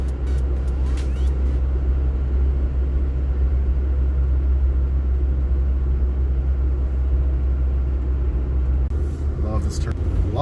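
Hyundai car engine running with higher compression while driving, a steady low rumble close by, with faint road noise throughout.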